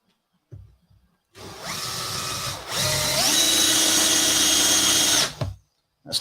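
A power drill drives light steel screws, whining up loudly in two sustained runs with a pitch shift midway, then stopping; faint knocks come before and after.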